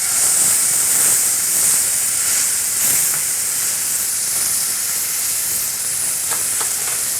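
Beef roast searing on its last side in induction cookware, a loud, steady hiss of fat and steam that stays constant, with faint occasional clicks and no talk.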